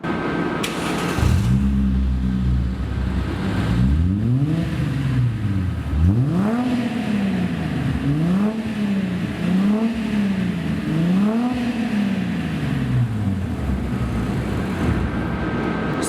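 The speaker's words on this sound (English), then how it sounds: "I've actually done an aftermarket exhaust as well." A car engine revs repeatedly through a loud aftermarket exhaust, rising and falling in pitch in several throaty bursts, close and unaccompanied by speech.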